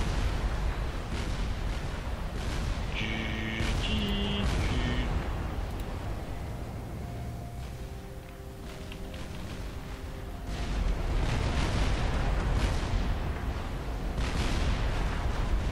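Heavy booming battleship cannon blasts in Supreme Commander Forged Alliance, several deep explosions with rumbling tails, mixed with synthetic beeps and tones and a dense battle backdrop.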